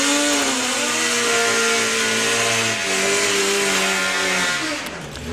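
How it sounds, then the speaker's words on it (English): Drag racing motorcycles doing burnouts at a strip, engines revving hard with rising and falling harmonic whine and tire roar, loud and close throughout, continuous for several seconds before easing slightly at the end. "I'll let the burnouts commence before I say what I was going to say next"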